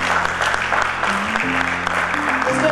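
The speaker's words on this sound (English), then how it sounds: "Please give a big round of applause to Mr." A conference audience applauds the arrival of a retail executive at a business event in Pakistan, producing steady, dense clapping throughout over a low musical hum.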